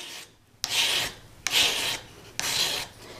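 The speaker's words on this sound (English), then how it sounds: "From here, I'm going to work into a sandpaper." A metal bezel setting tool is rubbed back and forth on sandpaper, giving three separate rasping strokes that are steady and close, with short quiet pauses between them.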